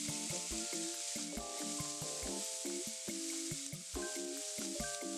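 Onions sizzling in a pan as the mirepoix base for a chicken stew: a quiet, steady frying hiss running under melodic background music.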